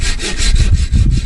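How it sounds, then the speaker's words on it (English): A handsaw cuts through a thick bamboo pole braced underfoot outdoors, giving fast, rhythmic back-and-forth rasping strokes that are close, loud and heard alone. "Bracing the thick bamboo with his foot, he saws furiously."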